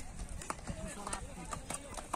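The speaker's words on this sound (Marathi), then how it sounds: "हे बघा घोडं जायत आहेत" Faint, irregular clip-clop of a horse's hooves walking, a few sharp knocks spaced about half a second apart, with a low, noisy background that may carry a voice.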